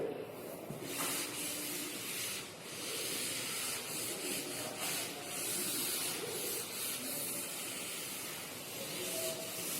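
Writing being erased from a classroom board, a continuous soft rubbing and hissing swish, faint and steady throughout.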